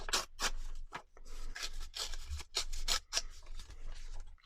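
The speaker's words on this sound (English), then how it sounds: "That needs ripping." Paper is torn by hand into pieces for a junk journal collage, with several quick, close ripping bursts separated by short pauses.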